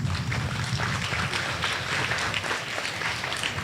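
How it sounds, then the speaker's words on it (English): Dense, steady applause from an outdoor audience at a primary school bust unveiling ceremony, many hands clapping together in a continuous wash of sound with some low rumble beneath. "I think we should really give them another round of applause"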